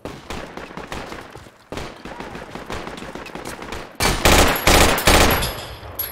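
Gunfire in the military shooter Project Reality comes in repeated loud bursts of automatic fire with sharp individual shots, ending in a heavier close volley.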